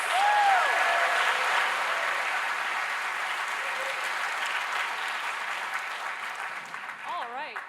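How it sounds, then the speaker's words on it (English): Large audience at a Hack the North hackathon opening ceremony breaking into sustained applause, dense clapping that fades gradually, with a brief voice over the noise near the end. "Let's give a big round of applause to our sponsors and partners."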